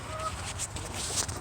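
Hens being fed cluck softly and close by, a short run of low clucks under a steady farmyard background, with no talking.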